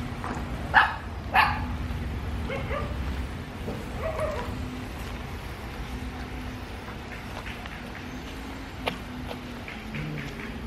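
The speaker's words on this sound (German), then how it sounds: "auf einmal kommen da ein paar Hunde rausgerannt und bellen und knurren dich an" Several dogs run out of a house entrance in a Vietnamese village, barking loudly in bursts early on, followed by quieter barks, yips and faint growling over a low background hum.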